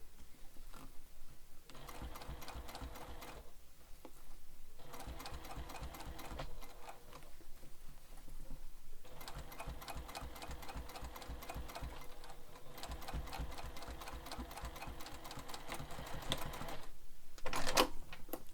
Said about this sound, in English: this fabric that I've already stitched is going up behind my presser foot.